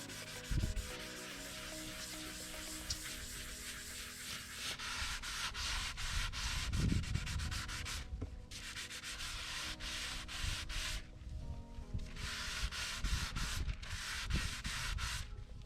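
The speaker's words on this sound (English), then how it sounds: "I'm going to go over it with a Scotch-Brite pad behind it to help keep it smooth" Steady scrubbing and rubbing of a Scotch-Brite pad over a primed car bumper, continuous strokes with a few brief pauses, close and fairly quiet.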